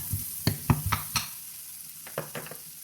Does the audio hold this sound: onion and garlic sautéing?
yes